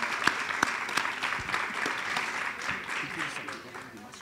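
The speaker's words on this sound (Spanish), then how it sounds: "Recibámoslo con un fuerte aplauso" Applause from a crowd, steady clapping with a few sharper claps early on, gradually fading toward the end.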